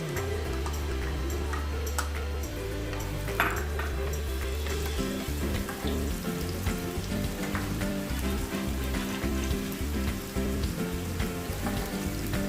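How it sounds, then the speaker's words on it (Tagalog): Onions sauteing in olive oil in a home kitchen while making seafood lumpia, a steady dense sizzle and crackle running throughout, close and fairly loud with a few ticking pops. "Ngayon, simulan na natin mag-saute. Unahin natin yung onions."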